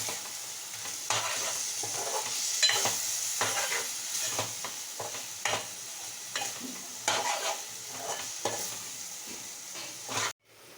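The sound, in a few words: stirring eggs with amaranth leaves in a pan, egg bhurji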